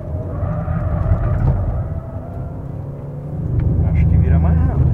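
An onboard car engine, an Audi A3 1.4, Chevrolet Cruze 1.4 or Honda Civic 1.5 on a fast lap, revs loud and close through gear changes, with a rise and dip in the middle and a strong climb at the end; a voice talks over it.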